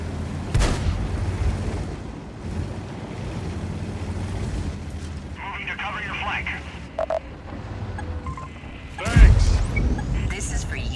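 A tank cannon in a World of Tanks-style armored battle game fires at an E77 tank: heavy booming shots with mechanical rumble of tracks and engine between them, while someone comments.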